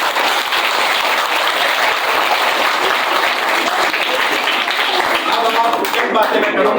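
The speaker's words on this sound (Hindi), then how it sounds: "सबसे पहले तो आप औरंगजेब सुल्तान को भरपूर पजीराई और तालियां बजा" Loud, dense applause from a crowd at a gathering rolls on steadily and close by. A voice begins speaking faintly near the end.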